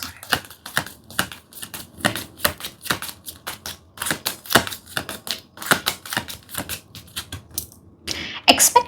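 A deck of tarot cards being shuffled by hand: a steady run of crisp, close slaps and flicks, repeated in quick uneven bursts for several seconds, with no talking.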